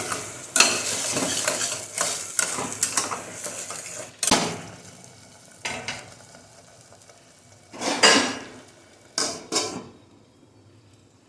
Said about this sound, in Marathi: तेल सुटेपर्यंत बारीक गॅसवर पटकून घेते